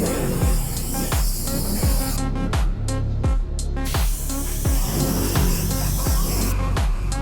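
A Wagner paint sprayer spraying, a loud continuous hiss that carries on over a strong rhythmic music beat.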